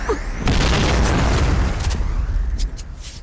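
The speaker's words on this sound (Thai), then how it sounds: "ระเบิดระเบิด" An explosion in a video game: a sudden loud boom followed by a sustained roaring rumble that tails off, with a few sharper pops near the end and no talking.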